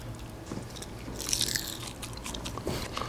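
Cold Sonic fries crunch between the teeth in a few close, soft bites and chews spread over several seconds, with faint irregular crackles.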